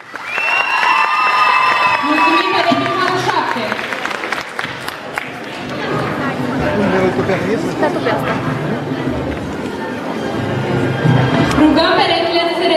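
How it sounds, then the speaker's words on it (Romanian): An audience at a school freshman ball in Vaslui claps and cheers loudly, with shouts and crowd babble mixed through the applause and swelling again toward the end. "aplauze"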